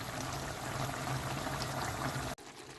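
A pot of water bubbles and seethes at a steady rolling boil, uncovered, as water boils off from pepper chicken roast, then the sound cuts off abruptly near the end.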